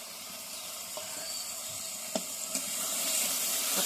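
Ingredients for a fish curry sauté in a pan with a soft, steady sizzle and a couple of brief utensil taps, heard close and fairly quiet.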